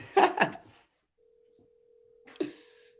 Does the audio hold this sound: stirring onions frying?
no